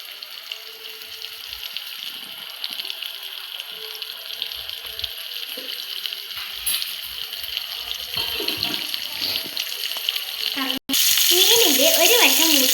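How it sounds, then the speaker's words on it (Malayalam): Pearl spot fish fry in hot coconut oil with a continuous hissing sizzle that swells louder near the end, while faint clinks and kitchen movements come and go. "മീനുകളെല്ലാം ചൂടായ വെളിച്ചെണ്ണയിലോട്ട് വെച്ചു കൊടുക്കാം."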